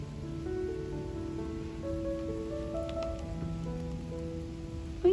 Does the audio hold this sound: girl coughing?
no